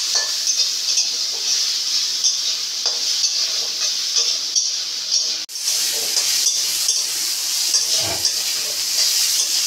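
Prawns fry in a little oil in a pan while Bengal arum leaves are prepared, giving a steady loud sizzle with occasional stirring scrapes, without speech.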